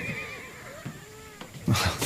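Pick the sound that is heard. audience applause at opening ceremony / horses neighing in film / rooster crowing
horses neighing in film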